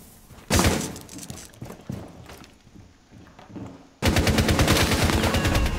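Rapid bursts of automatic gunfire in Rainbow Six Siege on the Oregon map, with scattered single shots and thumps giving way to a sustained, loud, close stream of rapid fire at the end.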